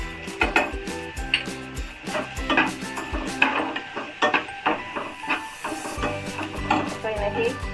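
Green chili paste sautés in a pan with steady sizzling and hissing, mixed with frequent clinks and scrapes of a spoon stirring against the metal, close and moderately loud.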